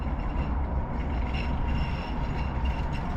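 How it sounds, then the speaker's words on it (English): A train passes on icy winter tracks in Calgary with a loud, low rumble. Faint metallic squeal and rhythmic wheel clatter run through the passage, and no one speaks. "Got to stop and watch the train"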